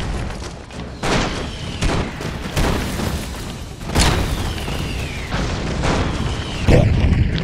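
Airstrike explosions in the side-scrolling game Broforce boom repeatedly, heavy rumbling blasts landing one after another with sweeping whistles overhead and near-constant crackle.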